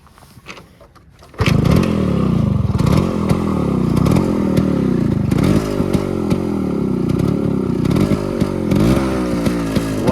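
A stock Yamaha RX 135 two-stroke motorcycle engine starts with a kick and then idles close and loud with a rattly, popping beat and a few light blips of the throttle, with no talk over it.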